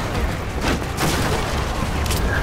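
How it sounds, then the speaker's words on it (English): Enemy gunfire in the video game Resident Evil 6, a steady rattle of rapid shots mixed with distant booms, heavy and continuous, with some faint voice chatter underneath. "Enemy fire! Alpha team, engage! All troops, spread out! Return fire!"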